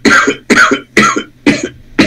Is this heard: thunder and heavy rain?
no